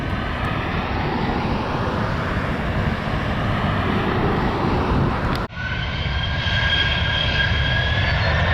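A United Airlines jet airliner departing RSW airport roars steadily with broadband engine noise, loud and sustained, with a brief dip midway before the rumble resumes.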